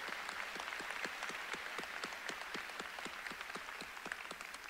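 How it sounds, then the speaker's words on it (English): Applause for parents and guardians at the 165th Oswego High School commencement ceremony: a large crowd claps steadily, with many distinct, evenly spaced claps heard at moderate distance, alone without talk. "Can we give all parents and guardians a great round of applause this morning?"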